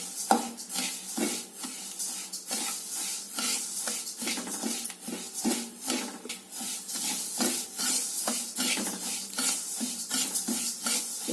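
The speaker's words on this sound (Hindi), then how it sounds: "तो कढ़ाई चढ़ा दिया है, भून लेते हैं अपना ये अलसी।" Flaxseed dry roasting in a kadhai over a low flame, with a steady rhythmic scraping and rattling as the seeds are stirred against the metal, continuous and close up, with no talking.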